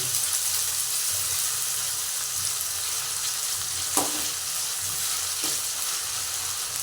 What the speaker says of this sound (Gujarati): બટેકા ચડી જાય ને ત્યાં સુધી આપણે એને તેલમાં સાતળવાના છે.